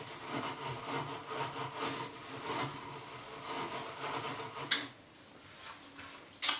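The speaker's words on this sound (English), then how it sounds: "for any of this more intricate detail here, we can still use our hand scrubber" Hand scrubber working paint stripper off the intricate detail of a wooden staircase, a steady close rasping scrub in repeated back-and-forth strokes, pausing briefly twice with sharp knocks.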